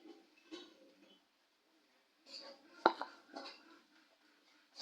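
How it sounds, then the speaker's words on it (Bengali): A utensil stirs turmeric and red chili powder in a cooking pan, giving a few faint, scattered scrapes and light metallic clinks separated by near silence. "এখন একটু নেড়ে চেড়ে"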